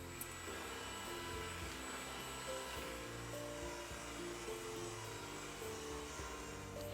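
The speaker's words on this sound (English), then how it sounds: "dump your dry mix into the wet mix and mix it until fully combined" An electric mixer runs steadily, blending dry ingredients into the wet mix for a holiday eggnog bread batter. A continuous, even motor whir holds for the whole stretch, with no talk over it.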